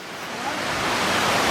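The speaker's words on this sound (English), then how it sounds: "And you're right by the little creek" A small creek flows beside a waterfall hiking trail in North Carolina, giving a steady broadband rush of running water that swells slightly louder and stays close and continuous, with no talking.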